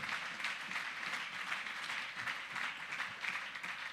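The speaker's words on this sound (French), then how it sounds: "Acclamons la parole de Dieu." A church congregation applauding after a reading, a sustained soft patter of many hands clapping at a distance, fairly quiet throughout.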